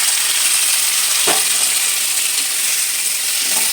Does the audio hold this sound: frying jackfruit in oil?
yes